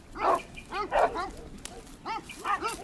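Several dogs bark in a series of close, sharp yaps in a dramatic film scene, in short bursts with brief pauses and faint voices underneath.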